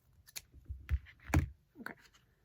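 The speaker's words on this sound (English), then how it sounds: "and snip the ends." Scissors snip the ends of ribbon for a Halloween garland, giving a few sharp, close cuts spread across a quiet moment.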